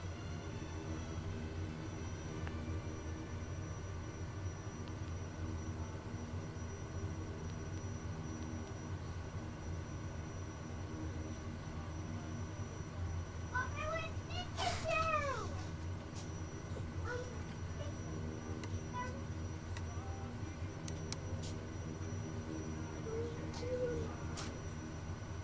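A steady, faint propeller engine drone from an SWS Kodiak 100 aircraft at takeoff in Microsoft Flight Simulator 2024 runs throughout, with a few brief tonal chirps in the middle.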